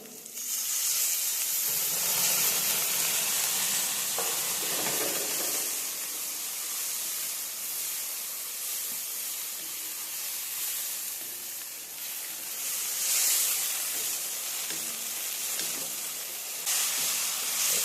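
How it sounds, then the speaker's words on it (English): White wine poured into a hot pan for eggplant risotto, setting off a loud, steady sizzling hiss of steam that lasts throughout and swells again near the end. "We're going to add some white wine."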